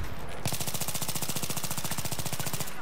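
Sustained automatic fire from a PP19 submachine gun in Battlefield 3, a rapid, evenly spaced stream of shots that starts abruptly and runs for a little over two seconds before stopping, with no talking over it.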